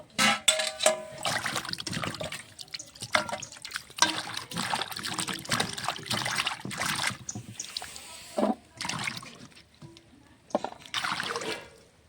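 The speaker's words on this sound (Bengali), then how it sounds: "আলুটা কাটা হয়ে গেছে, এখন ধুয়ে নেব।" Cut potatoes are washed by hand in water for a spinach and lentil-dumpling dish, with splashing, sloshing and trickling in irregular bursts, close and fairly quiet, with no one talking.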